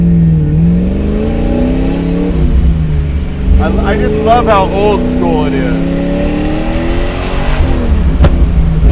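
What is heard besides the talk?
supercharged car engine revving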